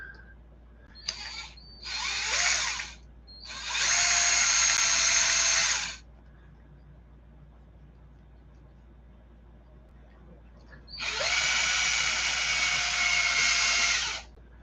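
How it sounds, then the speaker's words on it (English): A power drill bores into an RC10GT engine mount in short bursts: two brief spins, a longer whine, a pause, then another sustained run, close and fairly loud with quiet gaps between. "Don't drill toward your fingers."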